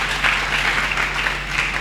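A church congregation applauding loudly during a sermon, a continuous wash of clapping from many hands filling the room, steady throughout with no voices over it.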